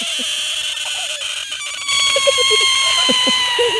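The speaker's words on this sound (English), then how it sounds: "And the frogs because it's been raining." Frogs croak at night after rain, many short repeated calls overlapping against a steady chorus of crickets and insects, fairly close and continuous throughout.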